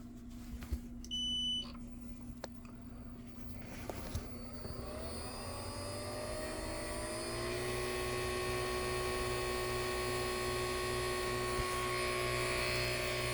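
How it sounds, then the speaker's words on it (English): A vacuum pump for a plasma Lichtenberg pattern setup starts after a few soft clicks and beeps, then spins up into a steady droning hum over constant mains buzz. "So now, we're going to pull a vacuum again."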